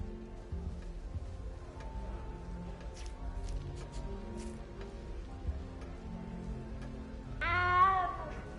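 In the video game Hogwarts Legacy, a cat gives a single clear, drawn-out meow near the end, heard close over quiet game ambience and faint patter.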